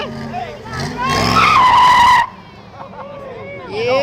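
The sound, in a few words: car braking hard with skidding tires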